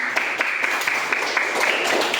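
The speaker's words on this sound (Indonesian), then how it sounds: "Oke, tepuk tangan semua." A short burst of group clapping by students in a classroom, steady and fairly close, with uneven individual claps blending together.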